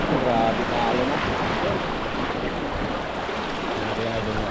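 Big sea waves surge and wash around an open boat at sea, with a rough, steady roar of water and wind buffeting the microphone and no clear speech over it.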